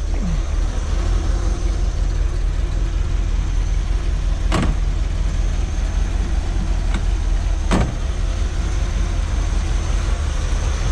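A 1966 Chevrolet Corvette coupe engine idles with a steady low rumble throughout, joined by two sharp clicks or knocks midway.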